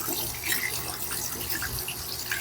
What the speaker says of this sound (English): You can see the water moving the hair.